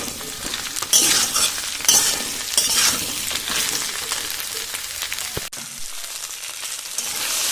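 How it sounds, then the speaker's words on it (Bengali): Taro and Malabar spinach stems fry in a pan with a steady, close sizzle, stirred now and then with scraping and light clinks of a utensil, and no talk. "এরপরে পুঁই শাক ডাঁটা দিয়ে দেবো এর সঙ্গে, তারপরে একটু লবণ দেবো, দিয়ে আরও কিছুক্ষণ ভেজে নেব"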